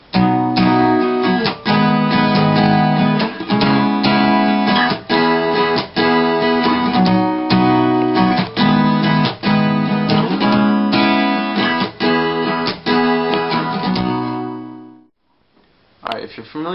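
An acoustic guitar strums four repeating chords of a song in a steady, loud rhythmic pattern with sharp downstroke accents, then stops abruptly near the end, leaving brief quiet.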